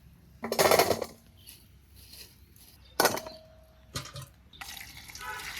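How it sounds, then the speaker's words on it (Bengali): Potatoes are rinsed in water, with short irregular splashing and pouring bursts close by, separated by quiet gaps. "দুই একবার ধুয়ে নিতে হবে, আলুর মধ্যে বালু থাকে।"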